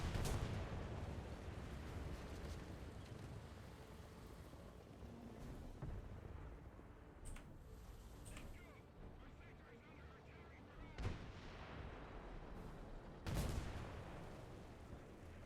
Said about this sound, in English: that's a pretty wide artillery barrage